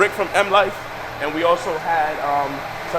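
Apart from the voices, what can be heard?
No everyday noise stands out behind the speech.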